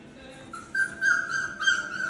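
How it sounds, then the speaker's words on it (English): Four-week-old British Labrador puppies whimper and yip in high, thin whines that rise and waver over about two seconds, close by with no talking. "They're a bunch of curious little puppies."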